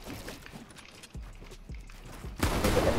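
Gunfire in a multiplayer shooter game, a couple of sharp low thumps standing out from quieter background game noise, followed by a sudden louder burst of dense, sustained sound near the end.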